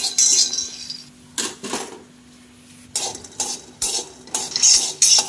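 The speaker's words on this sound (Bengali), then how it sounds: "একটা কড়াই বসিয়ে কিছুটা বাদাম দিয়ে দিয়েছি। বাদামগুলো একটুখানি ভেজে নেব।" Peanuts dry-roasting in a kadai (wok) get stirred with a metal spatula, giving bursts of scraping and rattling clatter separated by short quiet pauses, close and fairly loud.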